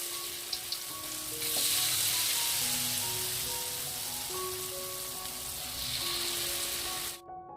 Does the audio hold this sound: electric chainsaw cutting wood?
no